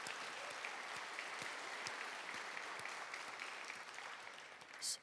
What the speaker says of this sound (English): Tonight's honorees and award recipients, let's give them all a round of applause for their contributions.